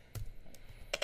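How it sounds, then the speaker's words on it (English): A few clicks of computer keyboard keys, including the space bar, sound up close: a sharp tap early on, a softer one midway, then two quick crisp taps at the end, with no talking. "Oh no, I pressed the space bar."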